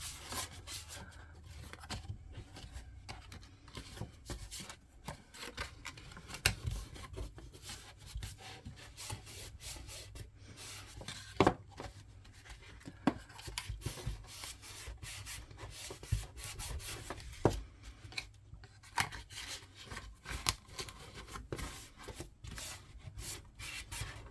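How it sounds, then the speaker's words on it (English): Stiff cardboard tabs on a cookie box are folded over one after another, giving a close, quiet run of rubbing, scraping and creasing sounds that continues steadily with small irregular crinkles. "So just go around and fold all these over."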